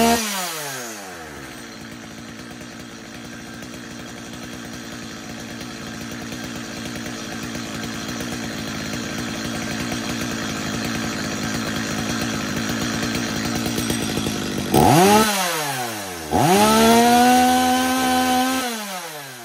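A Stihl MS230 chainsaw engine runs steadily at a loud idle-to-mid throttle, then revs up sharply twice near the end with rising and falling pitch.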